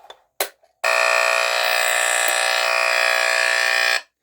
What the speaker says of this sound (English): this is 100 times louder than that one